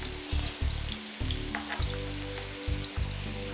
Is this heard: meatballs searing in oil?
yes